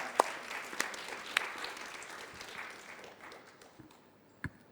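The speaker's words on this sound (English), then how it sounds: "A big applause for Dr. Pansan" Scattered applause from a symposium audience for a doctor, a soft, thin patter of clapping with a few sharper nearby claps, fading gradually over a few seconds.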